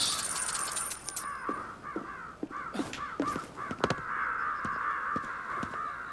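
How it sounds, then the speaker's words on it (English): Crows in the video game Ghostwire: Tokyo caw repeatedly in a quiet empty city, harsh calls overlapping and coming in irregular bursts over a constant background hum. "The crows."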